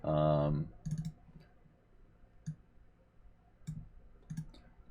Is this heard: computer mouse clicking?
yes